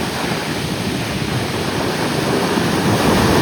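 Rough sea waves roll in at Surathkal Beach in Mangalore, a loud, continuous roar of surf with wind buffeting the microphone and swelling toward the end.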